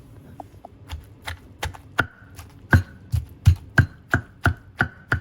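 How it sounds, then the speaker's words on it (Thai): Fish, chili and garlic pounded in a mortar, a string of about a dozen hard thuds with a sharp knock on top of each, settling into a fairly regular beat, close and loud with no talking. "เพื่อนจะตำใส่กับปลากับพริกกระเทียมพวกนั้นนะจ้า"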